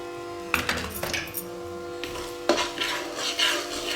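Spiced potato and cauliflower curry with chili, green chilies and salt cooking in a pot, with spoon stirring and clinks against the metal, soft sizzling and a couple of sharper knocks, close by with no talk.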